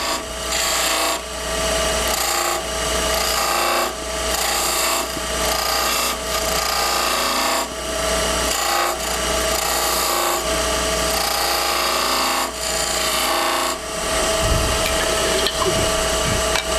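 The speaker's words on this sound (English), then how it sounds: "Then I would take a skew with the toe and I'd cut the grooves in the bottom." A skew chisel's toe cutting grooves into wooden beads spinning on a lathe, a loud continuous rasping scrape over the steady lathe hum, with brief pauses as the tool lifts.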